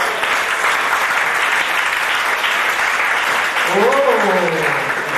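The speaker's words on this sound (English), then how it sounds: "could we please have your applause for couple number 1, Peter and Eleanor McKnight" Loud, sustained audience applause for a dancing couple at a 1992 Mariners Club event in Hong Kong, dense and steady throughout, with a voice rising briefly over it near the end.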